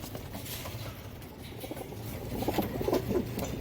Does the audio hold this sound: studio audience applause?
no